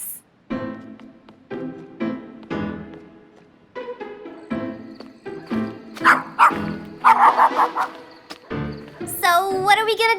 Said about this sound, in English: I can't sleep with all this barking.